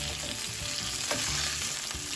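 Marinated carp pieces fry in hot oil, a loud, close, continuous sizzle with light stirring sounds and no voices.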